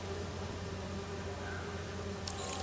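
Bees buzz in a steady, low drone within the Marvel's Spider-Man 2 game, a faint continuous hum without any talk, with a brief brighter noise near the end.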